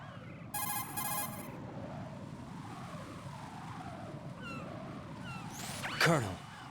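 A cell phone rings in Metal Gear Solid 2 with a bright, buzzing, electronic ring lasting about a second, followed by steady ambient game sound with a few chirps and sweeping tones.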